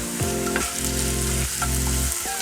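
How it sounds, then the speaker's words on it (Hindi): Small cut taro pieces fry in spices in a pan, giving a loud, constant close sizzle with a few scraping stirs. "हमने अरबी काट के इस तरह छोटे छोटे पीस में रखी हुई थी और ये हमने अपने पैन में इसको डाल दिया है।"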